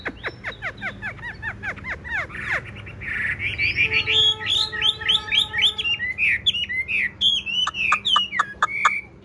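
A tame caged hwamei songbird sings at dusk, loud and close, a long run of rapid whistled notes, sweeping slurs and repeated trills with no talking over it.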